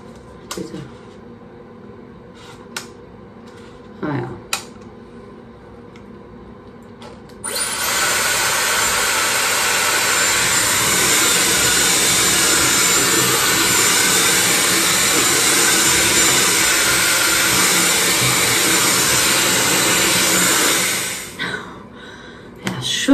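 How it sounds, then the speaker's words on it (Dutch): A Dyson hair dryer runs with its attachment fitted, a loud steady roaring whoosh that starts after a few faint knocks and clicks, holds evenly for about thirteen seconds, then cuts off. "ga ik eerst de föhn opzet gebruiken"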